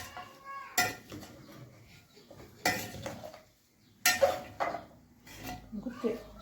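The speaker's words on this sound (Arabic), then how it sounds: "اديلها تقليبه حلوه بقى زيكم كده" A spoon clanks and scrapes against a pot as lamb with bay leaf and cardamom is stirred, in several sharp bursts of metal contact mixed with softer rustling, while someone speaks between the strokes.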